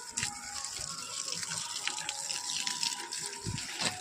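Garden plants being watered, a steady close splash and gush of running water that continues throughout with small fluctuations in strength.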